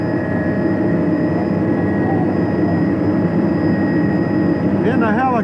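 A helicopter flying overhead above moorland: a loud, steady rotor and engine drone with a constant tonal whine filling the whole stretch, and a voice coming in near the end.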